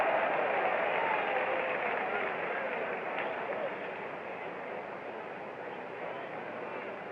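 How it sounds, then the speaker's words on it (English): Sustained applause and cheering from the stadium crowd at Game 5 of the 1965 World Series for Dodgers pitcher Sandy Koufax. It is a steady wash of noise, loudest at first and easing slightly, with a commentator speaking faintly underneath. "A most appreciative crowd of Koufax's efforts here today."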